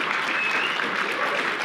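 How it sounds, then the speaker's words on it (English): Steady applause from a sizable audience at a live event at Yale University, a continuous dense patter of clapping that holds even for under two seconds without breaks. "It's comforting that there are that many people applauding"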